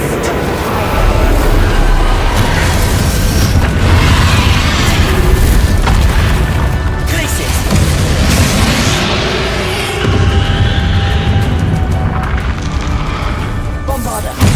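Bombarda spell blasts in Hogwarts Legacy during a battle with Ranrock, a dense, loud wall of booming explosions and rumbling crashes that barely lets up, with speech mixed in.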